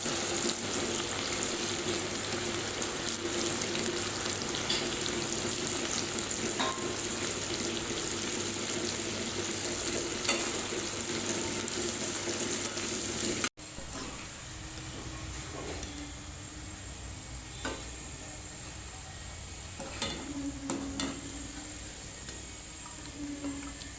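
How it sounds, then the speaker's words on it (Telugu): Thinly sliced onions fry in hot oil until reddish, giving a continuous, dense sizzle that carries on loudly, then drops to a softer, steadier crackle partway through, with a few faint clinks over it. "సన్నగా కట్ చేసుకున్న ఉల్లిపాయలు వేసుకుని ఎర్రగా వేసుకోవాలి"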